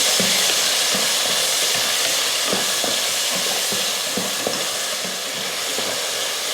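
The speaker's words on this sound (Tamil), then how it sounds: "இதையே வதக்கிடலாம்." Onions and tomatoes sautéing in a pan, a steady broadband sizzle with repeated soft scrapes of a stirring spoon at an uneven rhythm, close and fairly loud, with no voices.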